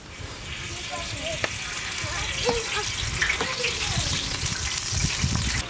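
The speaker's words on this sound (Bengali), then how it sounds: "তাপাল গরম হয়ে গেছে এখন তেলটা দিয়ে দিলাম" Oil hitting a hot pan before onions go in for chicken Maggi noodles, giving a steady rushing hiss with a few clinks of the pan.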